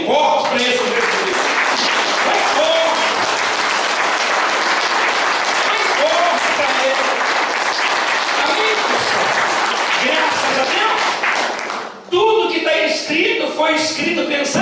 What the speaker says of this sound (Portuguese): vamos dar uma salva de palmas bem forte para esse mais forte